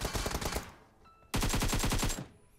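Rapid automatic gunfire from a BGMI battle royale match, two loud close bursts of evenly spaced shots separated by a brief lull, with a faint ringing tail after the second burst.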